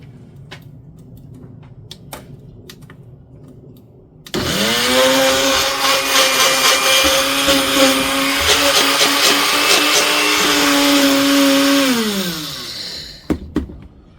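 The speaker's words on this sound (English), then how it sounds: "Just finishing up grinding up some eggshells." After a few light clicks, a grinder grinding eggshells whirs loudly for several seconds with a harsh, gritty high whine, then spins down and stops.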